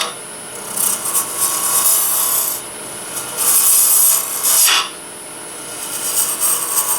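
An acrylic bottle stopper spins on a woodturning lathe at about 2,000 RPM while a tool cuts it, giving a hissing, rasping scrape. The noise swells in bursts and eases off between cuts, fairly close, with no speech.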